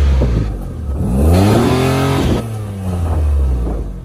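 A car engine revs up and holds as it is driven onto ramps to check a suspected suspension or engine-mount fault, the note climbing and falling in a steady, close, loud drone.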